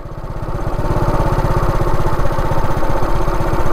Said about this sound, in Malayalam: അപ്പോൾ ഇതാണ് ഐഡിലിരിക്കുമ്പോഴുള്ള സൗണ്ട്